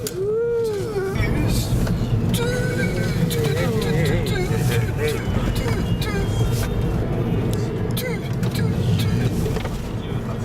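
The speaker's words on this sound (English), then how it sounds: "the car ride that we took to get there looked like this" Inside a car on a winding mountain road in Japan, a low engine and road rumble runs continuously while several people talk and chatter over it.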